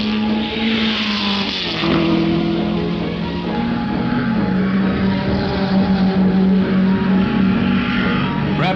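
Engines of 1961 Formula 1 race cars at the Ardmore Circuit in New Zealand, with the leader's engine running sick, held as a steady droning roar that shifts in pitch as the cars accelerate off a hairpin.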